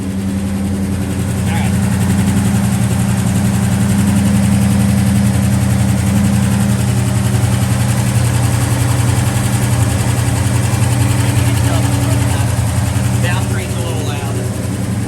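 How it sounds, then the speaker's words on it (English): A rebuilt engine in a 1968 Pontiac GTO restomod idles with a steady, loud, low rumble close by while people talk over it. "that's what happens when you got a good rebuilt motor"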